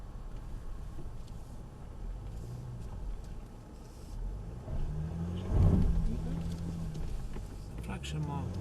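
A Mercedes off-road car creeps slowly up a hill, its engine giving a low, steady rumble that swells briefly near the middle before settling back to a constant drone.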